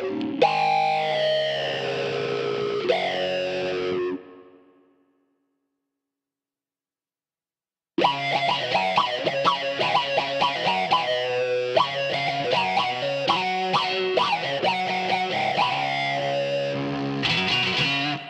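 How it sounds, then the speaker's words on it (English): Guitar through a Digitech Synth Wah pedal on its envelope up setting, all knobs at noon: sweeping synthesized filtered notes, a phrase that cuts off into several seconds of silence, then busier, louder effected playing resumes. "And now I'm going to kick into the first setting on the synth wah, which is the envelope up setting."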